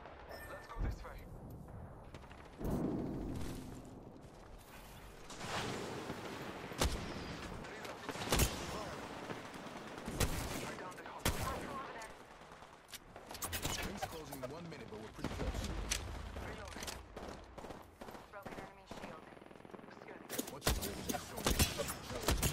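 Gunfire from the battle-royale shooter Apex Legends, sharp shots and bursts scattered through the clip amid game effects, with voice lines heard over the action.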